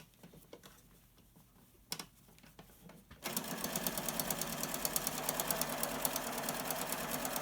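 Domestic sewing machine stitching close to the edge of a pleated fabric face mask, starting after a few quiet handling clicks into a fast, steady, close-up rattling whir that runs to the end.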